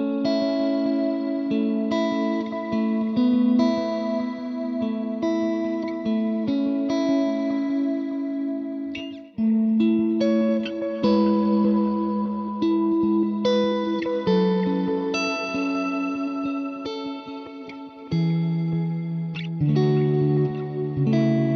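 Electric guitar through the CP1 Ambient worship preset on a Hotone Ampero II Stomp, a soft, washed-out stream of chords and notes swimming in reverb, echo and chorus, sustained and continuous with no talking.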